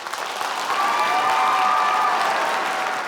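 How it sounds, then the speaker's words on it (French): Loud, sustained crowd applause in a pageant audience, thick continuous clapping with a faint tonal whistle or cheer riding above it midway. "j'aimerais que vous l'applaudissiez très très fort"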